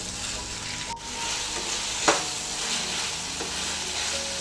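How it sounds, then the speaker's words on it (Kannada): Cloves, cinnamon pieces and fennel seeds frying in hot oil for a village-style country chicken curry hiss in a steady close sizzle, with a couple of light spoon scrapes and a faint clink, and no one talking. "ಒಂದು ಐದರಿಂದ ಆರಷ್ಟು ಲವಂಗ ಹಾಗೆ ಒಂದು ಮೂರು ಪೀಸ್ ಚಕ್ಕೆ ಸ್ವಲ್ಪ ಸೋಂಪು ಕಾಳು ಇದ್ದೀನಿ ಹಾಕಿ ಚೆನ್ನಾಗಿ ಫ್ರೈ ಮಾಡಿಕೊಳ್ಬೇಕು"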